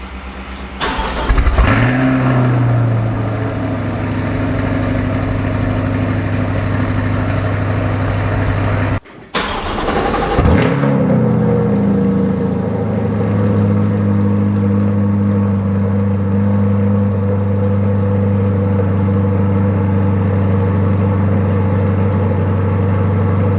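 A C8 Corvette engine cold-starts before its exhaust is installed: it cranks and fires up with a loud roar, settles briefly, then restarts and drops into a deep, steady high idle.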